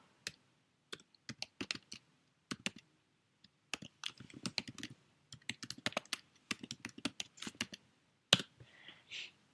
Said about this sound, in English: you just type in your email